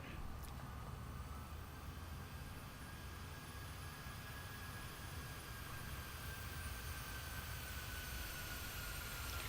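A jet aircraft flying past in Microsoft Flight Simulator 2020, a faint, steady engine roar and whine holding evenly throughout.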